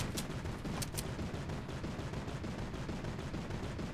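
Gunfire in a snowy area of Fortnite, dense continuous rattle of rapid shots heard at a distance, steady and fairly faint throughout with a few sharper cracks near the start.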